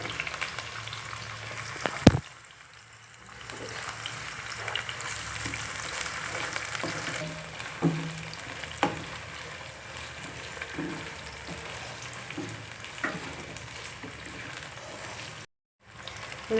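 Two medium-size onions frying in hot oil for a keema dish, a steady close sizzle running throughout with occasional clinks of a utensil against the pan and a brief dropout near the end.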